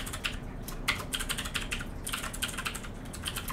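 Code is typed quickly on a computer keyboard, a dense, steady stream of close key clicks with brief pauses and no voices.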